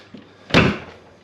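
A single solid thunk as the door of a Nissan S13 180SX is shut, a short close impact preceded by a faint click, with quiet room tone around it.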